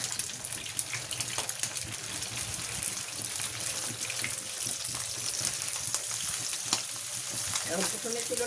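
Foli fish kofta frying in a pan, a continuous moderately loud sizzle with scattered crackles and spatters, no talking.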